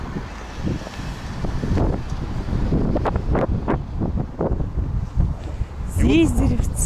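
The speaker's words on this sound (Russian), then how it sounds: "Ветер." Evening wind on a waterfront promenade in Kazan, buffeting the microphone as a steady rumble under a man and woman chatting.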